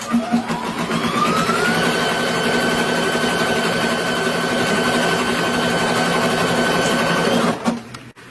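A sewing machine quilts a grid pattern, running steadily for several seconds, its fast even stitching whir close and loud, then stops abruptly near the end.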